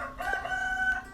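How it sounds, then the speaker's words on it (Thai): A rooster crows once nearby, a clear drawn-out cock-a-doodle-doo with a rising start and a sustained, slightly wavering tone, heard alone against quiet background. "เสียงไก่ขันดีจัง"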